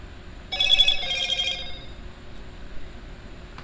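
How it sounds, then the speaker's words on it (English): A phone rings with a bright electronic tone, about a second of repeated trilling bursts, fairly close, followed by quiet room noise. "my phone goes off"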